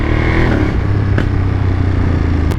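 A Ducati Monster 937 Plus motorcycle engine accelerates in a loud, close, continuous roar that holds steady for a few seconds without talk.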